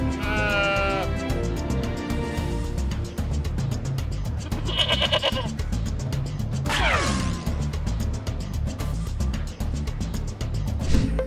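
A goat bleats in a few wavering, nasal cries, close and clear over a steady rumbling background noise.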